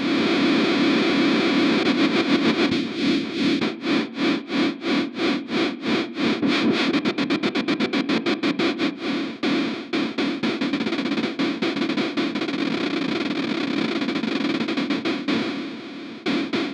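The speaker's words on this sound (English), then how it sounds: "I can place a delay. I can use modulation of all sorts." Heavily processed guitar through a Formula B Edge Echo pedal, drenched in delay and warbling modulation, with rapid pulsing repeats that speed up and slow down, loud and continuous.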